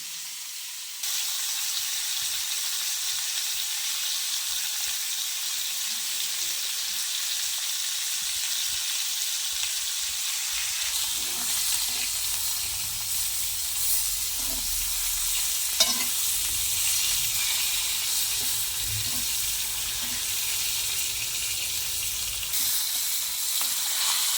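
Mahseer fish pieces fry in a pan during village cooking, giving a loud, continuous dense sizzle and hiss that deepens after a short while, with occasional pops and faint bubbling underneath.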